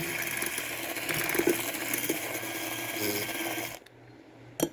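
A handheld frother whirs in an iced coffee drink with ice, making a loud, continuous buzzing for about four seconds before it stops, followed by a single brief clunk.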